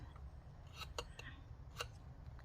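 Scissors snip through packaging paper in a few quiet, crisp cuts over a low background hum, with no talking.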